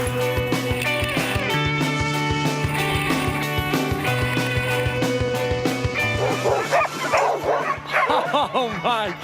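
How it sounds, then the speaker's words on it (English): An Iditarod-style sled dog team in backcountry Alaska barks, yips and whimpers excitedly in a dense, overlapping chorus close by, continuous and loud throughout, with no talking. "Backcountry Alaska, running with my team of dogs."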